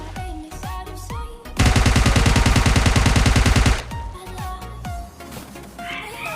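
Automatic gunfire in PUBG Mobile Lite, a loud rapid-fire burst of about two seconds in the middle, framed by scattered single shots and game sounds before and after.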